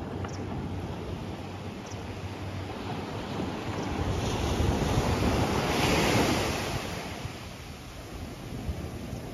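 Surf rolling onto a beach at Khao Lak, Thailand, in the morning: a constant wash of waves with one swell building and cresting midway before easing back, mixed with light wind buffeting and no voices.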